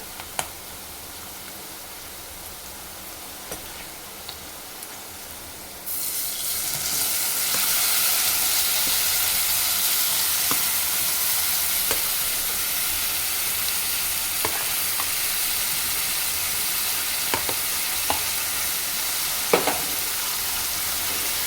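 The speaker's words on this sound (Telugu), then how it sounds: "ఈ టమాటా టమాటాని అయితే మంచిగా కలుపుకోవాలి" Chopped tomatoes frying in a pan for a tomato curry: a quiet start, then a loud, dense sizzle that surges up and holds steady, with scattered clicks and scrapes of stirring, no talking.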